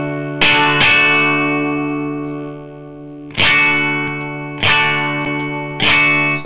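An electric guitar played through a Zoom Ultra Fuzz UF-01 pedal on its clean setting, several ringing strummed chords that sustain and slowly decay, close and fairly loud.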